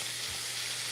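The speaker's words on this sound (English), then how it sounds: "the only thing it's doing right now is frying" Cube steak fries in a pan with a steady, dense sizzle that holds evenly throughout, close and loud with no talking.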